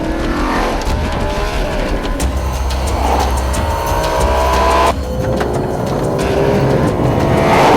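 A 2011 Audi RS5 is driven hard, its engine roaring loudly and revving up through the gears with a sharp shift midway, sustained and close throughout.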